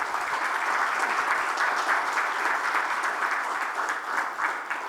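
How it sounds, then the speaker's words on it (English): A large audience applauds steadily at the opening ceremony of the ISPL cricket league, honoring Sachin Tendulkar; dense, continuous clapping fills the space at even volume without a break. "Can you have a round of applause for Bharat Ratna,"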